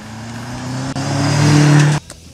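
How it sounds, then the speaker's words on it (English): A 2013 BMW M5 with a twin-turbo petrol V8 revs hard in one loud, rising, close sustained pull that cuts off abruptly after about two seconds. "this is the first M5 to come with a twin-turbo petrol V8."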